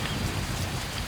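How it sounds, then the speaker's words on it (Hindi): Heavy rain pours down in a dense, unbroken hiss, loud and close, with no other sounds standing out. "ये बारिश तो कम होने का नाम ही नहीं ले रही है।"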